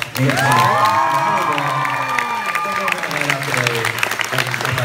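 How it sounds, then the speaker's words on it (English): An audience at a Q&A fan event at an EP launch breaks into loud applause with cheers and whoops, clapping swelling quickly and then thinning into scattered claps and voices. "Big round of applause."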